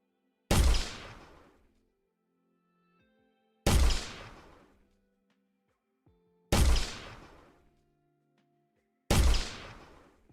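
Four loud, evenly spaced explosion blasts from a controllable rocket launcher in a game engine demo, each a sharp broadband boom decaying over about a second, separated by quiet gaps.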